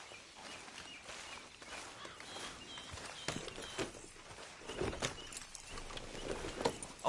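A horse's hooves clip-clop at a walk in the video game Red Dead Redemption 2, faint irregular thuds growing slightly louder over quiet outdoor ambience with occasional bird calls.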